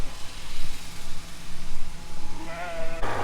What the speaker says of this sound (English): Sheep's on the move.